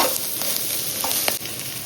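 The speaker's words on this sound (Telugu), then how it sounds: "వేగినాక కారం తిరుగుతా" Ivy gourd pieces fry in a hot pan with a dense, continuous sizzle, with several short scrapes as they are stirred with chilli powder.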